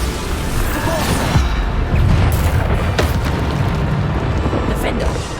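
A Bombarda spell detonates in Hogwarts Legacy combat, a loud booming blast followed by continuous rumbling, crackling battle noise with further thuds and bursts layered throughout.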